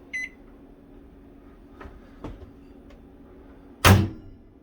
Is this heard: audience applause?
no